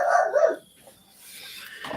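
A dog barking, a near, loud yappy bark burst at the start, then a quiet lull before a fainter whimpering sound rises at the end.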